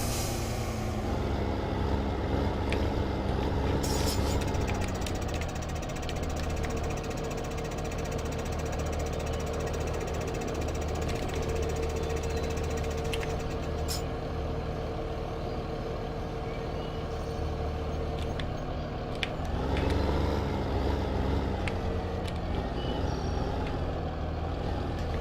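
A tractor engine runs steadily nearby during tree work, a continuous low chugging drone with some knocking texture and a slight shift in tone partway through, no talking.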